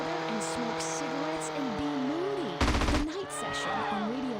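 A short automatic burst of gunfire in GTA: San Andreas, roughly half a second of rapid shots cutting through a running car engine hum while someone talks over the game.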